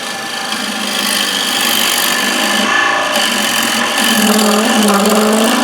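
A bowl gouge cuts a spinning wooden bowl on a lathe, giving a continuous loud scraping hiss over the machine's hum that swells slightly as the cut goes on, with no voices.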